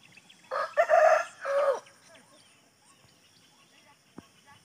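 A domestic rooster crows loudly nearby in two drawn-out bursts early on, followed by quieter outdoor ambience with a faint chicken cluck.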